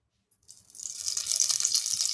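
Ghee and oil pour into a pan on a stove, starting after a short silence as a soft hiss and trickle that builds and then runs steadily, fairly close and moderately quiet.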